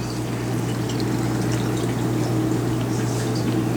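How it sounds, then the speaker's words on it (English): Eugenol distillate pours into a glass separatory funnel in a lab, a continuous liquid rush heard close and steady over a constant low hum. "let's go ahead and add the Eugenol distillate here into the separatory funnel"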